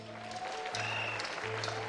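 Studio audience clapping on a Pakistani game show, a steady spread of applause over a low sustained musical tone with brief rising stings, no speech heard.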